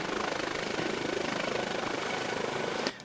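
Eurocopter HH-65 Dolphin helicopter in the Flight Simulator X game, its steady rotor chop and turbine whine running loud and continuous, then dropping off abruptly at the very end.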